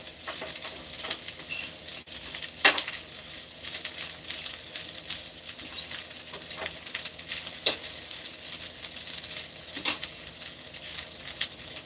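Garlic, pepper flakes and paprika stirred together in a hot pan, a steady faint sizzle with occasional scraping clicks of the utensil.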